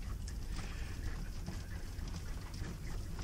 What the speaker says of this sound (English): apologies for the background noise, the sounds of the highway